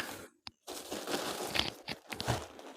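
Plastic bags holding knitting wool crinkle and crunch as they are handled up close, in irregular rustling bursts with a brief pause early on.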